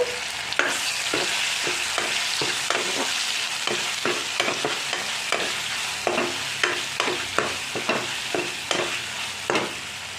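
Onions and paste sizzle steadily in a hot pan for mutton curry while a spatula scrapes and taps in a regular rhythm, close by, no voices.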